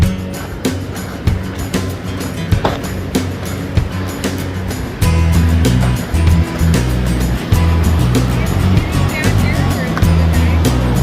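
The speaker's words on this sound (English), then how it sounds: "Down below some cool rapids." Rushing river rapids on a Colorado river near Elephant Rock Campground by Buena Vista, a loud, steady roar of churning water with a heavy low rumble and constant broadband hiss, close by.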